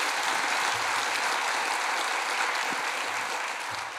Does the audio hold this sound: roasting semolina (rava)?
no